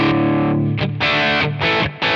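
Distorted electric guitar through a J.Rocket overdrive pedal into a high-gain Marshall amp, playing chunky chords in short bursts with brief gaps between them, loud and saturated with no talking.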